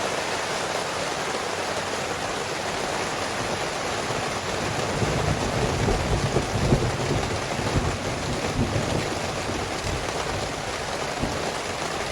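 Steady heavy rain during a violent night thunderstorm, heard from shelter in an unfinished dugout, a dense continuous roar with no voices and no distinct thunder claps.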